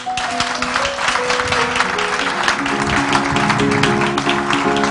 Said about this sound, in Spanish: vamos a recibirles a los tres por sus películas y por su presencia con un fuerte aplauso